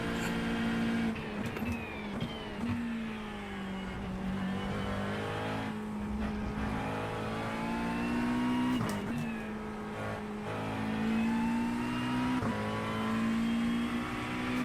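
Car engine in a racing video game, a Bongo World Series race at Spa, revving with sustained, rising and falling tones through the gears, loud and steady with no talking.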